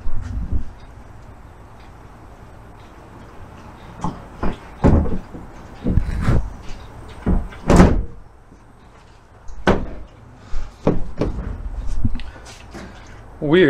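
A car door being opened and shut on a wide-body build in a workshop, a series of dull thunks and clunks spaced irregularly, with someone talking in between.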